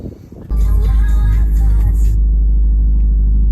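A 2022 Subaru WRX with an aftermarket air filter cranks and fires at about half a second, settling into a loud, steady idle rumble with some higher engine whine early on, heard close with no talk.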